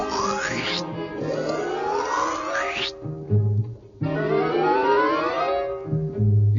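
A voice on an old-time radio show imitating loud soup slurping, with sweeping, gliding sucking noises in two long bursts separated by short snorts, close and alone.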